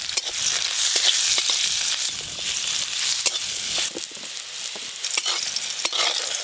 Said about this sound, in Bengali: প্রথমে কিন্তু করলা ভালো করে ভেজে নিতে হবে।